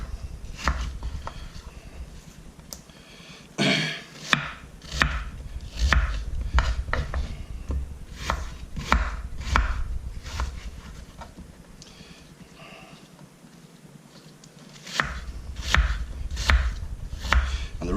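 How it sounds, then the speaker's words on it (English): Apples chopped with a knife on a board, a long run of sharp irregular knocks, close and fairly loud, with a short pause midway and a quieter stretch before the strokes pick up again. "So what I need to do is just chop these bad boys up."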